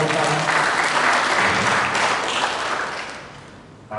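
An audience at the office of PT Natural Nusantara bursts into dense, sustained applause that holds strong, then gradually thins and fades out near the end.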